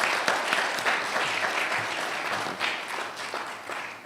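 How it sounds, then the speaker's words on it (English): Applause from architects gathered at an institute AGM, honouring members and the old council: a broad, sustained crowd clapping, moderately loud and fairly even, fading slightly toward the end. "So a round of applause for all of you and the old council."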